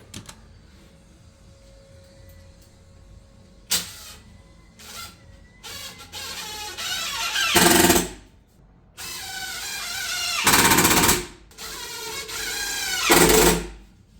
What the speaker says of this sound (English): What I'm doing now is just screwing a back and a front to it.